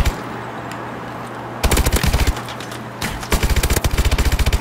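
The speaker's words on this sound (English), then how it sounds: "that guy's shotgun's got reach" Rapid bursts of shotgun and automatic gunfire in the Call of Duty Advanced Warfare zombies mode, two loud volleys of sharp repeated blasts over a steady game background hum.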